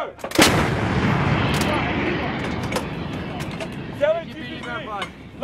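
An M777A2 howitzer fires during a U.S. Marines artillery fire mission with one huge, close blast early on and a long rumbling decay, while people shout around it.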